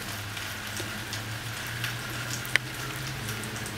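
Steady rain patters and hisses across a puddle, with scattered drips and one sharper drop standing out.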